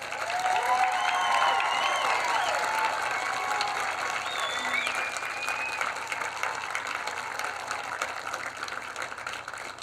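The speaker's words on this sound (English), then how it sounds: "share congratulations to all the graduates with a round of applause" Graduation audience at a 2021 high school commencement applauding the graduates, a steady wash of clapping with scattered cheers and whoops lasting throughout, loud and near.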